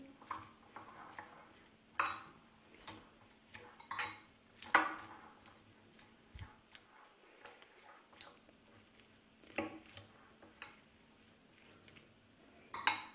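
A spoon scrapes and clinks against a bowl while mayonnaise is mixed into a potato and cabbage kebab mixture, giving intermittent clattering taps with quiet pauses between them.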